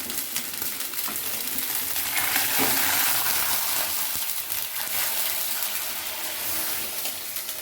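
Water poured into a pan of shukto spices, a steady broadband splash and sizzle running continuously and fairly loud, with no voices.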